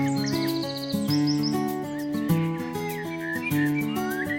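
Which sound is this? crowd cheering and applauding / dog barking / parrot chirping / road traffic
parrot chirping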